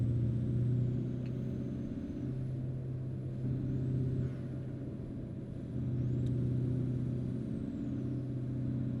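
Old Kenworth truck in a driving video game, cruising along a coast road with a steady, moderately loud diesel engine drone and faint whining shifts, no talk.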